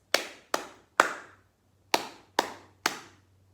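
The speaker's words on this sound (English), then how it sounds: "we're going to use our hands and clap rhythms." A pair of hands claps a short rhythm of six sharp, close claps: three evenly spaced, a pause, then three more, each clap ringing briefly with no voices.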